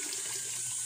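Water gushes steadily from a tap at a house supplied by a mountain well project, a brief, even hiss without pauses.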